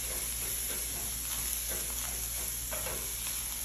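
Tomato paste stirred into a hot cooking pan, a steady sizzle with soft scraping strokes of the spoon, close and continuous, no voices.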